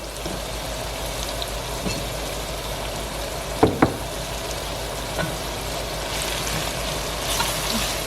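Shrimp stew simmering in a pot with a steady, low sizzle and bubbling throughout, and two brief, sharp clatters midway as a spoon stirs it.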